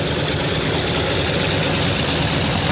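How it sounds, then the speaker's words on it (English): Vintage Douglas DC-6 propeller airliner with its piston engines running on the runway, a loud, steady, dense roar with a deep throbbing low end, continuous and close, with no voices. "The DC-6 on the runway."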